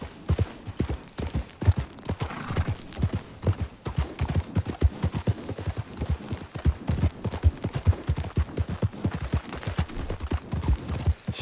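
Horse hooves gallop in Red Dead Redemption 2, a steady fast clip-clop of hoofbeats running continuously at close range with no other sound over it.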